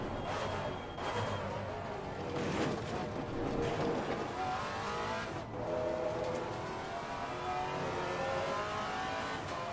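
Steady high-revving drone of a Maserati MC GT4 race car in Assetto Corsa Competizione, its pitch climbing and dipping through gear changes and corners, with a short tire squeal along the way.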